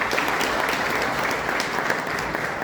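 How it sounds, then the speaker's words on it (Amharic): Guests at a church wedding applaud the groom after his vows, a brief, dense round of clapping from a gathered crowd, steady and fairly loud throughout. "አጨብጭቡለት።"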